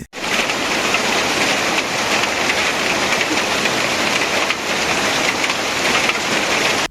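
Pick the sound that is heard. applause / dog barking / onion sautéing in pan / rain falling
rain falling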